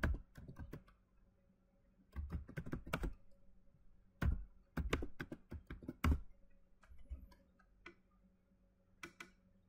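The command cmd is typed on a computer keyboard in a quiet room: short bursts of crisp key clicks separated by pauses, with a faint background hum.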